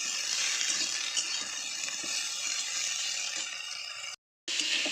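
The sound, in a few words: broccoli frying and being stirred in a pan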